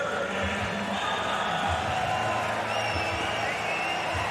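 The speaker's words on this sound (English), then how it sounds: "Crowd showing its appreciation from what has been a spirited scrap between Saul Rogers and Georgi Karakhanyan" Arena crowd at a Bellator MMA event applauding and cheering after a hard-fought bout between Saul Rogers and Georgi Karakhanyan, a steady, dense roar of clapping and voices at moderate distance throughout.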